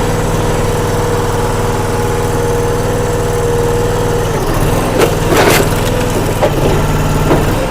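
An All Wood Musclewood log splitter idles with a loud, steady engine drone, then wood cracks and splinters sharply as the engine labours through a split. No one speaks.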